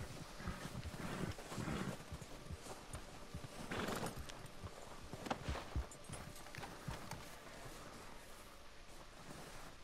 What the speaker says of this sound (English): Follow him on my horse.